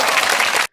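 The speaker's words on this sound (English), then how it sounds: "Sana, a round of applause." A short, loud burst of applause from a small group, dense steady clapping that cuts off abruptly near the end into silence.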